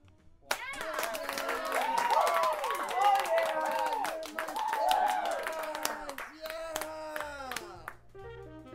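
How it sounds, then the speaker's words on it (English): An audience claps in a small, homey setting to honour an elderly grandmother musician, the applause swelling then thinning into scattered claps, with voices chattering under it. "Let's give a round of applause for Ethel Erickson, my grandma."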